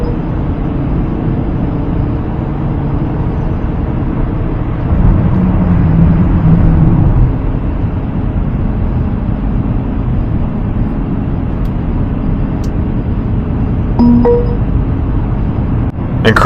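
Inside the cabin of a Maybach GLS 600 on the move, a steady low road and engine rumble drones on, muted and even, with a slight swell midway and a few faint ticks near the end.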